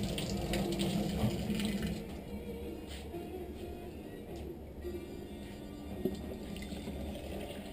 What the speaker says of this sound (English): You just fill it with water.